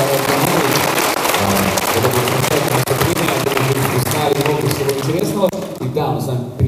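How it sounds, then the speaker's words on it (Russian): Audience applause at an open meeting between a regional digital development minister and IT companies, a dense, sustained clapping that stays loud throughout before starting to thin out near the end. "Давайте дадим аплодисменты."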